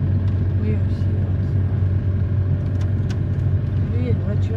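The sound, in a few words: car driving nearby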